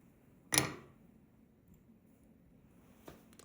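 A single sharp, close scissor snip cuts fly-tying material at an angle. A much fainter small click follows a few seconds later in a quiet room.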